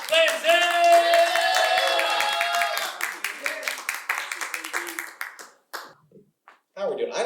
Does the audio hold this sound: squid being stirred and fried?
no